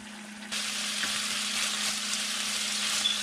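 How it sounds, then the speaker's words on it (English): Beef steak frying in oil as its remaining water evaporates, a bright hissing sizzle that starts suddenly and then holds steady and close, with a low constant hum running beneath it. "so it's gonna start frying or dorando en el aceite"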